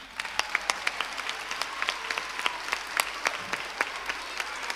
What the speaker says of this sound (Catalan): un aplaudiment per l'equip tècnic